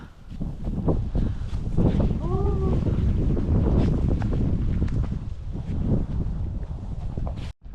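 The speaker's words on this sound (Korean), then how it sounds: "구간 바람이 엄청 붑니다" Strong wind roars across a snowy mountain trail near Seoul, buffeting the microphone with a loud, steady rumble, and a voice briefly sounds over it.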